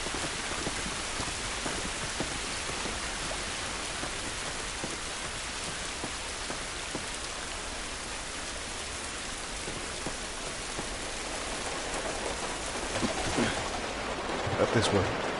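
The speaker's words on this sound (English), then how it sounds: "It's raining." Heavy rain pours steadily in The Last of Us, a constant dense wash of droplets splashing on surfaces, with some louder movement and voices near the end.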